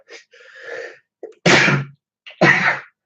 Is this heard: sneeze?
yes